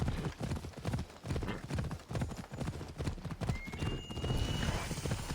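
Horse hooves gallop in Assassin's Creed Odyssey, a steady, fast clip-clop that runs the whole way through, with a whinny and light background sound near the end.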